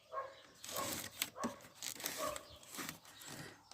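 A dog barks repeatedly in quick, fairly loud bursts, close enough to stand out over a dense background of outdoor noise.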